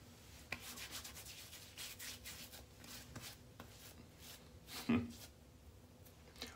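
Soft, steady rubbing of hands working a menthol product into freshly shaved skin, close and fairly quiet, with one brief louder scuff near the end.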